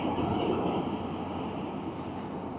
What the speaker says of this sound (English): they get 2 goods trains a week, I think it is, come down to Longreach through Winton.